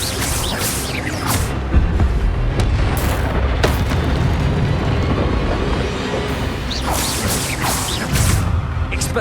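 Expelliarmus spells being cast in the video game Hogwarts Legacy, with dense booming blasts and whooshing magical impacts layered over continuous loud game audio.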